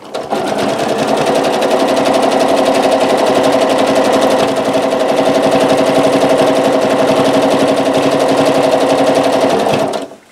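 A sewing machine stitches through a quilt in a rapid, even mechanical rattle, loud and close, running steadily for about ten seconds before stopping abruptly.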